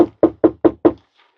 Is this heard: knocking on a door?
yes